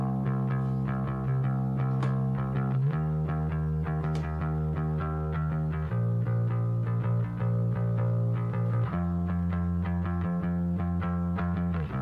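A heavily processed, distorted bass guitar holds long sustained notes that shift every few seconds, loud and thick within a driving rock mix.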